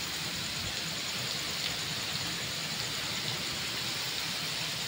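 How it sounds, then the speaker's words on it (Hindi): Heavy stormy rain pours down at night as a dense, continuous hiss of drops on surfaces, loud and unbroken with no voices. "तूफानी बारिश है बहुत तेज बारिश है।"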